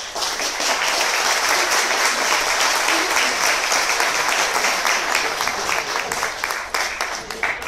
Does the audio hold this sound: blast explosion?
no